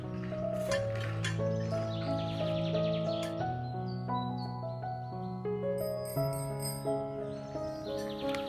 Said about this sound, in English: This Swiss bell was a gifted one.